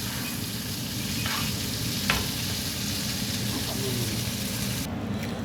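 A halal T-bone steak fries and is basted in a pan with a steady, close crackling sizzle and occasional spoon scrapes, while someone talks over it.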